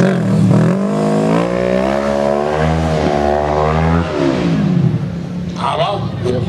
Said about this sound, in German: Jede Menge PS, die man hat, egal ob 20 oder 120 oder 150, werden mobilisiert. Und dann geht's bis zur Drehzahlbegrenzung.